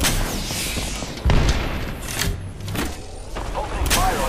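Gunfire and heavy booms in the battle-royale shooter Apex Legends, a dense fusillade with a loud thump near the middle and repeated shots layered over constant game noise and background voices.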